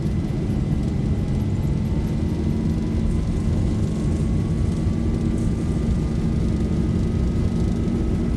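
A ZIBO Boeing 737 in X-Plane 11 rolls down the runway for takeoff from SFO, with a loud constant engine roar, a rising turbine whine and a rumbling low end, unbroken and with no talk.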